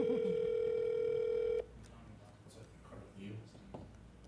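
A telephone call goes unanswered, its steady electronic tone sounding loud and continuous for about a second and a half before cutting off abruptly, leaving faint room noise and scattered low talk.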